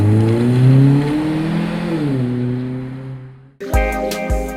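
A taxi in Taiwan revs and accelerates loudly nearby, its engine whine climbing and shifting pitch before a sharp drop and a burst of quick mechanical clatter.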